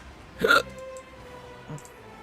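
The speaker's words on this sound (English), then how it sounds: "I have the hiccups." A man gaming at his computer lets out one sharp, close hiccup, followed a moment later by a second, fainter hiccup.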